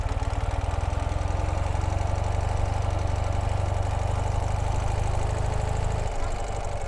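A 2018 Ural Gear Up motorcycle engine runs with a steady, low throbbing chug, close by, its rhythm shifting slightly near the end.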